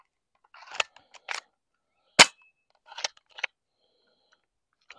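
Crosman PSM45 BB pistol shooting BBs: a handful of sharp, dry snapping shots spaced irregularly, one much louder crack in the middle, close and in an otherwise quiet setting.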